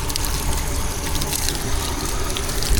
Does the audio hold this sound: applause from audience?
no